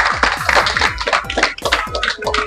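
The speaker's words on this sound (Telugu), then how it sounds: "అందరూ ఒకసారి క్లాప్ కొట్టండి" A group of people clapping together at an event, dense rapid overlapping hand claps close and loud, continuing steadily throughout.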